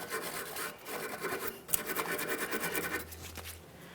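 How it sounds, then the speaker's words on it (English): Wire brush scrubbing along the top of the front strut mounting area on a 2012-2015 Honda Civic, a steady close rasping scrub lasting throughout, with no talk. "I'm using a wire brush right along the top of the front strut"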